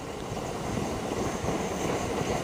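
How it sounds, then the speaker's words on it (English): A Svea 123R liquid-fuel camping stove roars steadily as it burns, a loud, close, continuous rushing like a small jet, with no voices over it. "you can really hear this baby fire out the fuel. Sounds like a jet fighter."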